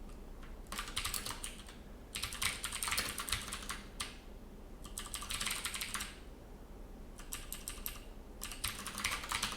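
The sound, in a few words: typing on a computer keyboard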